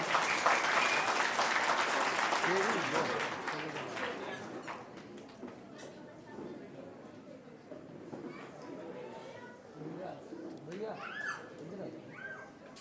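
An audience at an education award ceremony applauds a student's MBBS admission, loud clapping over the first few seconds that dies away into chatter and voices in the hall.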